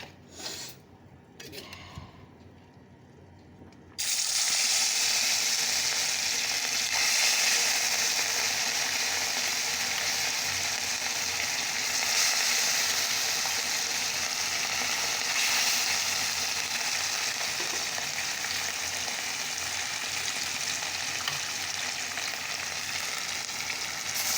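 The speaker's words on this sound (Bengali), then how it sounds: "তো কড়া তেল দিয়ে দিয়েছি তো চলো মাছগুলো ভেজে নেই" Small cut fish hit hot oil after a quiet start, and a loud, dense sizzle then holds steady and close for about twenty seconds.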